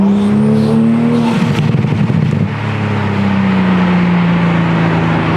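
A Toyota Supra with an HKS carbon intake drones loudly with a deep exhaust note, rising and settling as it revs, steady and close throughout.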